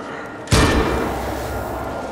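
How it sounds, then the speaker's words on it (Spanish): A revolver fires once in Dead Island 2, a sudden heavy bang that rings out and decays slowly into a sustained, echoing wash of noise. "es contundente el revólver"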